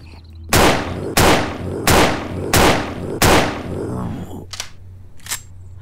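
Five loud, evenly spaced gunshots ring out in a video game, each one a sharp crack with a short echoing tail. A few fainter, more distant shots follow, and no one speaks.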